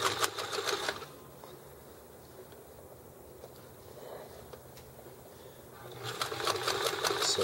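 A sewing machine stitching the two halves of a drawstring bag together, running in a loud rapid whir for about a second, pausing to a quiet hum, then starting up again near the end.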